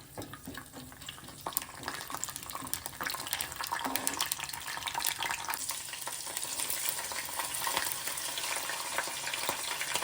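Chana dal sizzling and crackling in hot oil in a pan, a steady close frying hiss with occasional stirring scrapes and pops.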